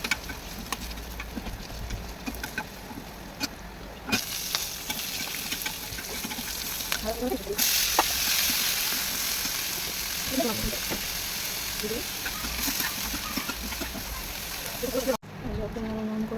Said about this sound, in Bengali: শুকনো লঙ্কা, আদি কাটা ভাজা